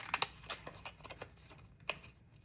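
Scallop scissors snip through paper in a quiet room, a rapid run of small crisp crunching cuts and ticks, close and faint, with a short pause before a final snip.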